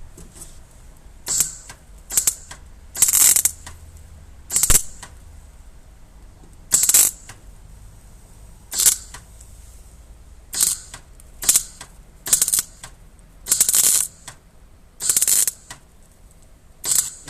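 A welder tacking a patch over a rust hole in a car panel with small, low-power tacks, heard as a series of short, sharp crackling bursts separated by silence in an irregular rhythm.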